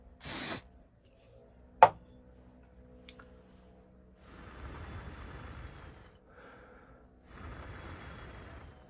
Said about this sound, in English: as I then squirt it with the aerosol, it shouldn't go white